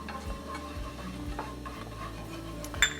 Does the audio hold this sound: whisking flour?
yes